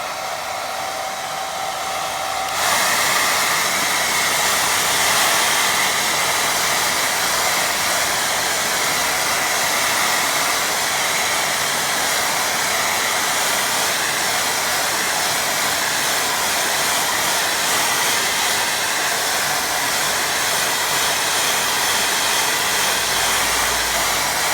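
A loud, steady hair dryer blows continuously for over twenty seconds, drying a watercolour painting of a farmhouse, with a brief quieter start before the full rush of air.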